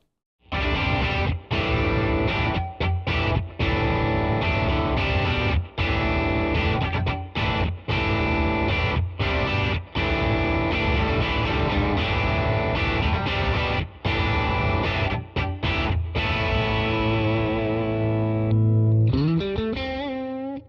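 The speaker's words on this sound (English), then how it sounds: "now I'm going to play a little bit of Overdrive" Fender Jazz Tele electric guitar through overdrive distortion strums thick, sustained chords at steady volume, briefly pausing between phrases and ending on a sliding bend.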